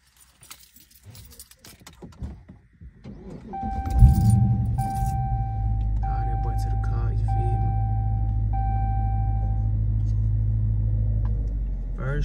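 Car keys jangle briefly near the start, followed by a car door and the low steady rumble of an engine idling inside a vehicle, with faint talk early on.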